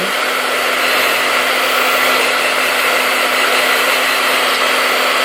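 Hair dryer blowing warm air steadily onto lace gel, a loud continuous whooshing hum with a faint motor whine running unbroken for the whole stretch.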